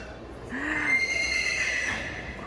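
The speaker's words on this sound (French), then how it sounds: "Il court avec le cheval." A horse whinnies in a long, shrill, wavering call at an agricultural fair, fairly close and clear against a quiet background.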